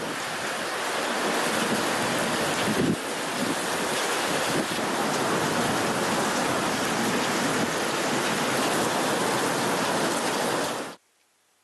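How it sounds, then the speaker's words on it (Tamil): Heavy rain pouring in the Hosur area of Krishnagiri district, a loud, dense, continuous hiss of downpour with some wind, steady for about eleven seconds before cutting off abruptly. "ஒசூர், சூலகிரி, தளி உள்ளிட்ட பகுதிகளில் கனமழை பெய்தது"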